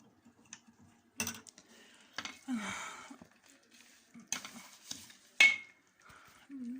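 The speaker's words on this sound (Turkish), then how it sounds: "Karıştırıyorum." Semolina halva is stirred in a pot, giving scattered spoon scrapes, clinks and soft squishing bursts, close and intermittent with quiet gaps between them.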